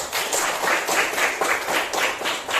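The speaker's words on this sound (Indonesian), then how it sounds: "Tepuk tangan untuk putra." Pupils in a classroom clap together for a classmate, a steady run of rhythmic group claps in even pulses, moderately loud and without talk.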